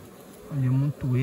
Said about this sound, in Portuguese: Olha, montoeira de abelha.